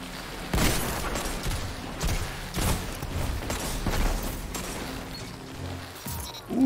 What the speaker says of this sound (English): Oof, that grenade wrecked him.